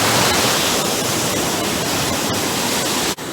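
Baltic Sea waves at the off-season seaside in Mielno, Poland: a dense, steady roar of surf washing in, close and loud, broadband and unbroken, dipping only briefly near the end.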